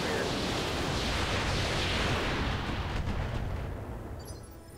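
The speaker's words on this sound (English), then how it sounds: "firing all the LRMs in his back" A full rack of LRM missiles launched at an enemy mech's back in the RogueTech mech game, a long, loud rushing barrage of launches and blasts that thins out and fades toward the end.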